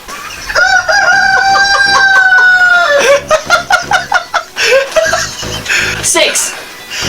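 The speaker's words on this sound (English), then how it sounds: "And this is a little baby rooster" A young rooster crows nearby in a long, wavering call, followed by a run of short, loud clucks from chickens kept on a small allotment.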